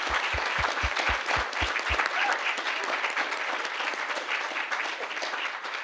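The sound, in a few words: audience applauding the panelists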